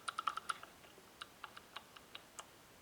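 Small, sharp metallic clicks tick in a quick cluster, then continue as sparse single clicks, quiet and close, as the lock bar of a LA GARD 2270 safe lock drops against the wheels.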